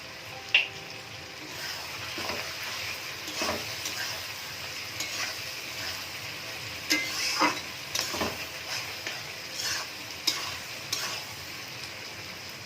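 Chili chicken frying in oil in a pan, stirred with a spatula: a steady sizzle under repeated scraping and clinking strokes, close and moderately loud, with no talking.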